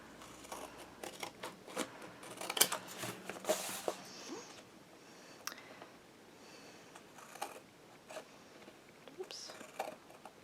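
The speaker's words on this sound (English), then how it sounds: "I am just going to cut at an angle" Scissors snip through chipboard corners at an angle for a large craft album, giving soft, irregular cutting crunches and rustles, close and fairly quiet, with handling noise in between.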